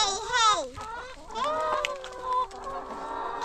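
Chickens on a ranch cluck and squawk in a quick run of rising and falling calls, loud and close, then settle into softer, steadier clucking.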